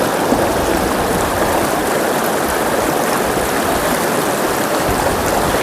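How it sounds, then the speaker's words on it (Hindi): A mountain stream, or khad, fed by water seeping from the hills of Himachal's Tirthan Valley, rushes steadily and loudly nearby, a constant broad wash of flowing water with no pauses. "खड का पानी, तो ये पहाड़ों से रिस के ये इकट्ठा पानी होता है और इस तरह से ये बहता रहता है।"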